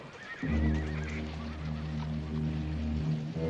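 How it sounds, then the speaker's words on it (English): A black gelding saddle horse at a horse auction gives a long, loud neigh that holds for a few seconds over low background noise. "that handsome black gelding, a prime example of Ponderosa-bred saddle stock"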